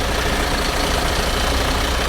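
A MAN RR4 26.480 truck chassis engine runs hard and close, a dense continuous diesel roar filling the moment with no pauses and no voices.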